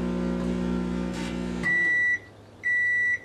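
A microwave oven hums steadily with dead batteries arcing into plasma inside, then the hum cuts off and two long electronic beeps sound close by, separated by a short pause.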